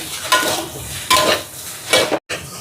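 Crab kottu roti with curry being tossed and mixed in a pan, heard as three distinct scraping, sizzling strokes of the spatula separated by short pauses.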